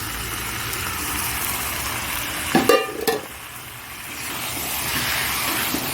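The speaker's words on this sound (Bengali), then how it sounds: "এইবার এর মধ্যে আমি আলুটা দিয়ে দেবো ভাজা আলুটা দিয়ে দিচ্ছি" Fried potato pieces dropped into sizzling ghugni masala, a dried-pea curry cooked down in oil until it separates, giving a brief burst of clattering and hissing midway over a steady background hiss.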